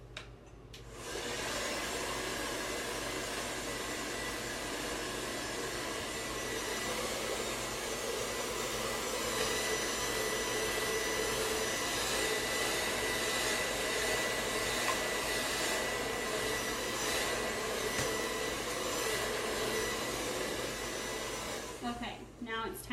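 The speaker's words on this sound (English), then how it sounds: "And I'll end up blow drying the front panel on this side back towards myself." A handheld hair dryer roars steadily and close up while hair is blow-dried during a styling session, a continuous loud whooshing hum that starts after a brief pause and cuts off at the end, with no talking.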